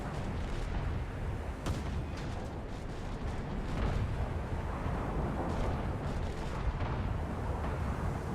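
Destroyer guns in a War Thunder naval battle fire repeatedly. The booming shots fall at irregular intervals over a constant, heavy rumble of engine and sea noise, with nobody speaking.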